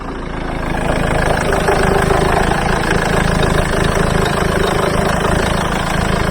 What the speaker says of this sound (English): Right, it's running idle.